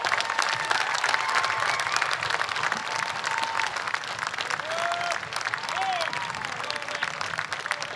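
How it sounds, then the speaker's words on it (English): Crowd applause at an Armed Forces Day parade in Torrance, sustained dense clapping throughout, loud and continuous, with faint voices mixed in. "One more round of applause."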